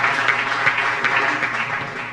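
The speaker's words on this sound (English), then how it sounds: "And a round of applause." Audience applause for a guest being welcomed onto a stage at a public discussion, a dense, steady wash of clapping from a sizeable crowd that fades slightly at the end.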